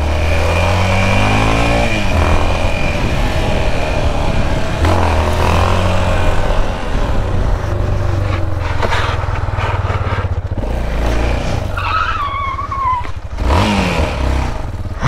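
A Yamaha XT660 motorcycle engine revs loudly and repeatedly, rising and falling in pitch close by, with steady engine rumble throughout.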